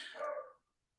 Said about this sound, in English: Is that the dog barking?